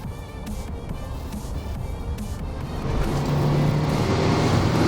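Subaru Impreza WRX engine pulling on throttle, a steady low rumble that grows louder and firmer partway through as revs climb, with little exhaust note on top, heard alone from inside the car.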